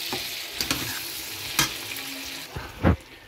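Cumin powder and other spices frying with dry fish in a pan, with a steady close sizzle broken by a few sharp scraping stirs and one louder clatter near the end.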